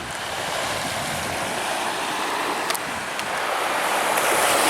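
Steady wind-driven water and waves wash around a canoe out on Lake Erie, a continuous broadband rush with faint clicks and no voices.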